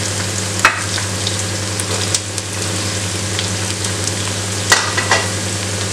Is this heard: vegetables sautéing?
yes